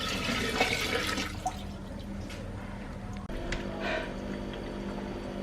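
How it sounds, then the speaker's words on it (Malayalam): Water is poured steadily into a bowl set inside a small guppy aquarium, a continuous close splashing and trickling with faint drips throughout. "ജസ്റ്റ് ഒരു പാത്രം വെച്ചിട്ട് അതിലേക്കാണ് നമ്മൾ വെള്ളം ഒഴിക്കുന്നത്."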